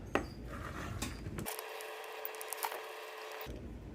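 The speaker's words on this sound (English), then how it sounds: "you will need to remove all the screws on the bottom of the camera" Small precision screwdriver removing screws from the bottom of a Minolta Maxxum 7 film camera, faint close clicks and scraping ticks of the driver turning in the metal body, quiet and intermittent.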